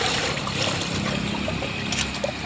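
Water poured into a bowl while washing fish with turmeric, a steady splashing trickle that runs continuously and fairly close, with no talk over it.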